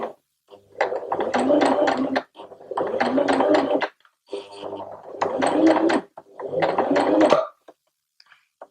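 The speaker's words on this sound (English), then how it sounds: "I'm going to be using a stitch length of 4mm and I'm not going to backstitch." A sewing machine runs a long 4 mm stitch while a sleeve is set in with a French seam, giving four even bursts of rapid rhythmic clatter separated by short pauses, close and clear.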